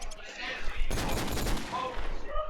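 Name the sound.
AK rifle spray fire in a video game (Counter-Strike)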